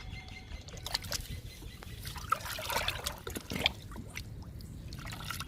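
Liquid fertilizer made from oats and kitchen waste is poured into a bucket of water, a faint uneven trickling and splashing close by, with soft scattered clinks and no talking.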